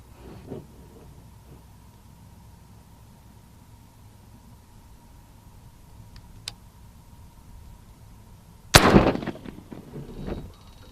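A Texan .457 caliber airgun fires a 500 grain Spitzer bullet, a single sharp, loud report near the end after quiet background noise, followed by a brief ringing tail and faint knocks.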